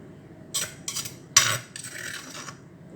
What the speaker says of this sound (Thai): ฟังเสียงขูดครก